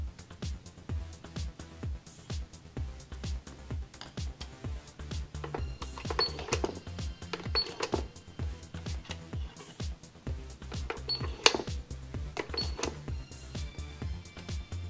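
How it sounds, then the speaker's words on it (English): Toy cash register with a key lock and credit card slot, playing a string of electronic beeps and chimes in a rhythmic jingle, with clicks and rattles of plastic buttons throughout. "This cash register also takes credit cards."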